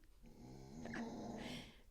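A small dog growls low and steady indoors, a soft throaty rumble close by that swells briefly and ends with a faint whimpering edge, with no voices over it.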